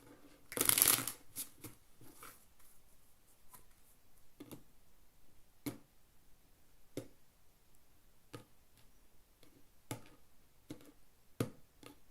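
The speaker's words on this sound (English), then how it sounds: "More shuffle." Playing cards are shuffled at a late-night poker table, a loud riffle near the start followed by a long run of crisp, scattered snaps and taps of cards being squared and handled, close by with no talking.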